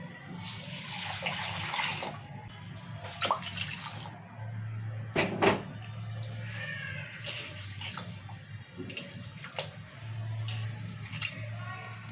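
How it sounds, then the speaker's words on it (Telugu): Water poured from a tap over basmati rice for washing in a home kitchen, a steady broadband rush in bursts, with clinks of vessels and faint background noise, no talk. "ఇక నీళ్ళు పోతాం"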